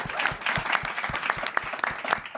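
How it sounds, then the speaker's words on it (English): Audience applause at a startup accelerator demo day, a dense burst of steady clapping from a crowd for over two seconds. "So let's give them all a big round of applause."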